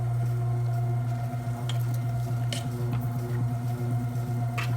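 Roti dough of mixed vegetables, Sri Lankan style, being stirred and kneaded with a utensil: soft, steady squishing and patting, close up and continuous, over a constant low electrical hum with occasional sharper clicks.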